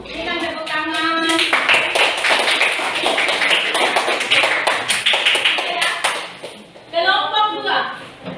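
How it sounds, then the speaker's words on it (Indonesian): Students in a junior high school classroom break into a burst of applause, many hands clapping in a dense, close patter for several seconds, framed by a teacher's voice speaking before and after. "Berikan tepuk tangan."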